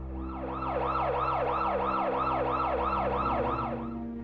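An ambulance siren wails in a steady, rapid up-and-down sweep, loud and close, repeating continuously over a low rumbling engine with no voices.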